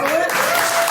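A book launch party audience claps hard on request, the applause continuous and loud throughout this short moment, with no pauses.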